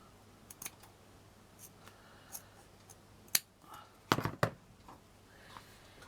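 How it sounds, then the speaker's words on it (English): Scissors snip around a paper Christmas bauble shape for a velvet decoration craft, with quiet, scattered cuts and a few sharper clustered snips, close but faint against a hushed room. "Just carefully cut around there."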